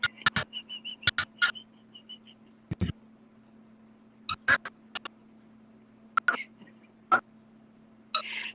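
Guinea fowl on a farm calling noisily, a string of sharp, harsh, clipped cries in irregular bursts over a steady background hum, fairly close.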